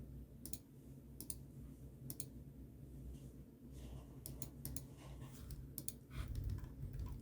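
Computer keyboard keys pressed while drafting in CAD software, giving sparse, crisp clicks in small bursts over a quiet, low room hum, with a faint clatter near the end.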